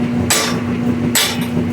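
A hammer strikes a punch set on a stuck, stripped bicycle quill stem bolt, giving two loud, sharp metallic whacks about a second apart, close and alone, over a faint steady hum.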